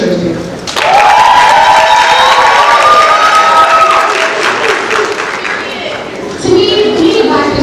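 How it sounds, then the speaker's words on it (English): A high school audience at a Black History Month celebration breaks into loud cheering, applause and excited shouting, a dense crowd roar with high children's voices that stays strong throughout and surges again near the end. "So I think that deserves a cheer too."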